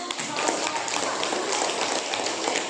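Students in a classroom give a steady wash of applause, many hands clapping at once in a dense, even patter that runs throughout without a break.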